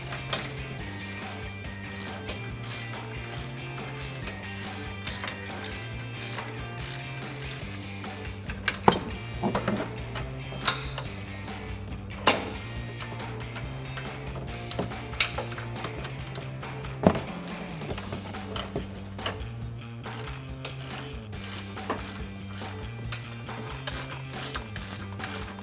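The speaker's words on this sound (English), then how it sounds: "17mm ratcheting wrench." A 17mm ratcheting wrench clicks steadily and rapidly while tightening bolts on a 2-inch front leveling kit for a Ram 1500 pickup, with a dense, continuous pawl chatter heard close up and no talking.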